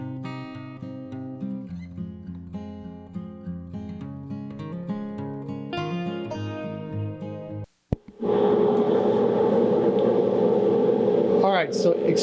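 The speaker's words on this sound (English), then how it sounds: "but I have my dust collector" A workshop dust collector kicks in during a cutting board build, its steady broadband roar taking over after several seconds of plucked melodic notes and a brief gap, then running loud and unbroken to the end.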